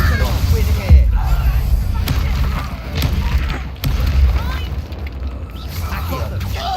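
Spell blasts from the Confringo curse in Hogwarts Legacy, booming fiery explosions with heavy low thuds rolling under continuous loud battle noise and talk.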